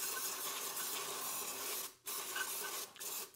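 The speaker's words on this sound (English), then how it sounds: "I just take some carburetor cleaner and I'll spray it inside of the bucket" Carburetor cleaner sprayed from an aerosol can onto gun parts in a bucket, a loud continuous hiss in long bursts with brief pauses between, close up.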